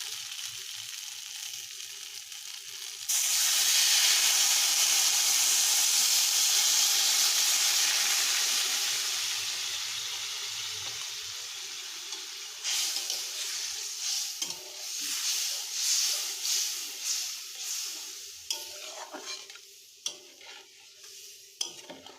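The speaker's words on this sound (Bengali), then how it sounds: "এবারে এসে আমরা জল দিয়ে দেব।" Water hits a pan of frying spice paste in a Bengali home kitchen, bursting into a loud, steady hiss that rises sharply, lingers for several seconds, then fades into softer crackling sizzle with intermittent stirring scrapes.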